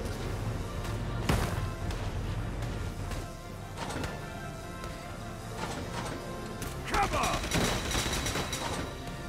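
A vehicle-mounted gun firing during a Valkyria Chronicles 4 battle, with scattered sharp bursts and cracks spaced a few seconds apart over a busy, noisy background at moderate level.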